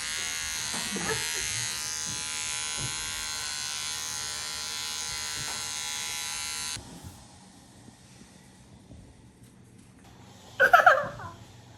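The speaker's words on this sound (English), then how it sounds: "So we shaved all his hair off." An electric shaver buzzes steadily and close up for several seconds as it shaves off a boy's hair, then cuts out, followed by quiet and a brief burst of laughter or excited voices.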